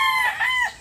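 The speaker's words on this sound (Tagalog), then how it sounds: "yung mga inahin na meron ako dito sa bakuran" Backyard hens and a rooster crow loud and close, one bright cry rising then falling over under a second, with no talk.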